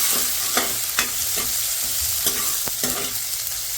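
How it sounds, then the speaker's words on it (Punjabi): Tomatoes and onions hit a hot pan and sizzle loudly, a continuous bright frying hiss broken by several sharp stirring knocks and scrapes, close up with no voices. "ਲਓ ਜੀ ਨਾਲ ਹੀ ਟਮਾਟਰ ਪਿਆਜ਼ ਪਾ ਦਿੰਦੇ ਹਾਂ"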